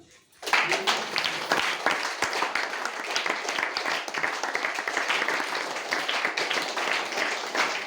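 A meeting audience breaks into applause, starting abruptly and continuing as dense, sustained clapping from many hands, fairly loud and steady throughout.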